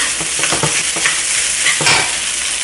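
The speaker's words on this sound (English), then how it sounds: "ผัดไปเรื่อยๆดีๆค่ะ" Rice and pork stir-fry in a hot pan, a loud close sizzle with repeated scraping and tossing strokes from the spatula, with no one talking.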